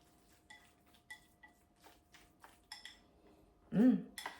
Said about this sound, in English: I'm just going to go ahead, mix them evenly in a bowl